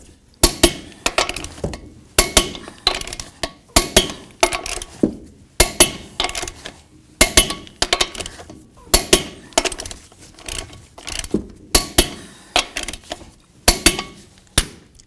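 Metallic clicks of a torque wrench tightening wheel lug nuts to 165 foot-pounds on a 1999-2007 Ford F250, sharp ratcheting bursts repeating in a steady rhythm roughly every second, close and clear without talk.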